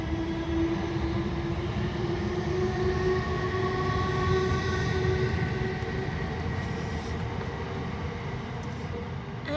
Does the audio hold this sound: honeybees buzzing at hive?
no